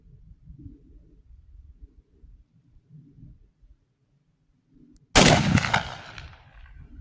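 A Winchester 1886 rifle chambered in .45-90 fires one loud, close shot that booms and rings out over several seconds, following about five seconds of quiet outdoor rustling and low rumble.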